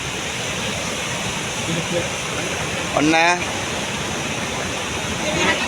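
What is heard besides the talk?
river flash flood rushing water filling the riverbed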